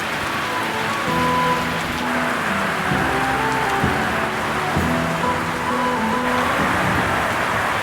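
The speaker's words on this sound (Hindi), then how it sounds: "भयंकर वाली बारिश लगी आज।" Heavy monsoon rain pours down steadily near a mountain village shrine, a loud continuous hiss and patter on surfaces, with faint tonal sounds from nearby instruments or chimes threading through the downpour.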